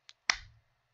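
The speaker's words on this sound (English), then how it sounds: "that's what I meant to clap like" A single sharp hand clap, loud and close, preceded by a small faint tick, then a short ringing decay into silence.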